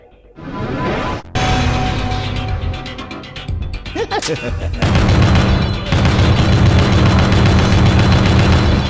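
Gunfire in Killer7 aimed at a laser-firing Smile enemy with shots boosted by a power ring: loud, dense bursts of shots and booms over a steady roaring game soundscape.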